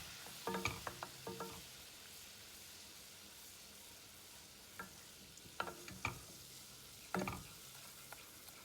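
Flour cooks in melted butter in a pan for a fettuccine Alfredo sauce. A soft, quiet sizzle runs under a few scattered bursts of stirring and scraping.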